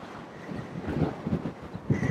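Gusty wind buffeting the microphone, low rumbling bursts that rise and fall irregularly.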